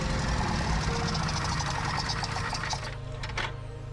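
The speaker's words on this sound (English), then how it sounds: "I tried to start the engine for probably the next 20 minutes" A bulldozer engine being cranked in an attempt to start it after it died, a loud rapid mechanical knocking and churning that runs steadily and then falters near the end.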